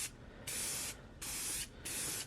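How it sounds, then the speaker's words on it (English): Three sustained hissing bursts from an aerosol spray can laying light coats on a scraped carbon fiber lip of a BMW F30, each lasting about half a second, close and even with short pauses between. "You hold the can about 8 to 10 inches away, and then you just do light coats this first time around."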